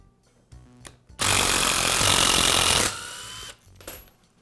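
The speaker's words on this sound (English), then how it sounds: "Now I'll remove the screws that secure the gear case to the motor housing." A power tool backs screws out of the gear case on a Milwaukee drill, one loud steady whirring burst of about two seconds, preceded and followed by quieter handling clicks.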